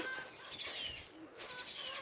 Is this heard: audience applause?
no